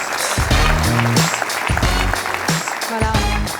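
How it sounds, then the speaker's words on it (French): An audience at an award ceremony applauds with loud, steady clapping, while bursts of music or tones sound over it. "On peut les applaudir tous les deux."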